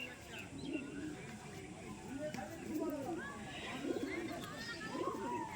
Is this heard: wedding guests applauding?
no